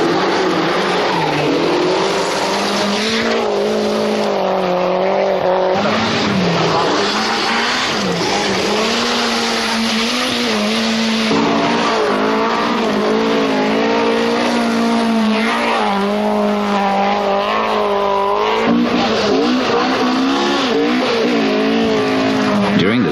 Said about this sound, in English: with the Quattros now just driving to the end, Penty does 4 consecutive fastest times